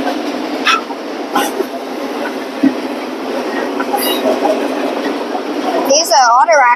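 Freight train hauling autoracks rolls past on the rails in a steady, loud broadband rumble with occasional clanks, a dog barking briefly and a high squealing whine rising near the end.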